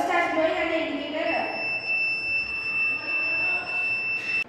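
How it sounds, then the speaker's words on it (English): A prototype IV fluid low-level indicator buzzer sounds a steady, piercing electronic tone that holds for several seconds, while a person talks over it at first. "as soon as the bottle goes below 60 ml, then the buzzer starts blowing and the indicator."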